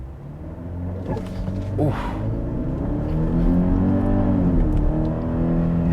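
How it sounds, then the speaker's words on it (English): A 2023 Genesis GV80 SUV with the 2.5 turbo engine launches from brake torque in sport mode, its engine note rising steadily and loud from a low rumble into a sustained pull, with a brief exclamation from a voice inside the cabin. "I'm going to put the vehicle into its sport mode here. I'm going to brake torque it."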